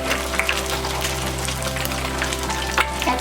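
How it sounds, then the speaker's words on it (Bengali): Eggs sizzle steadily in hot oil in a pan while being slowly turned for an egg chilli, a dense continuous frying crackle with occasional louder pops and scrapes, close up with no talk. "ডিমগুলো এভাবে আস্তে আস্তে উল্টিয়ে দিতে হবে।"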